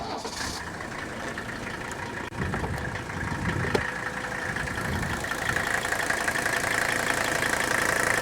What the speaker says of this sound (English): We'll let you listen to it at idle because that is where it has its really unique sound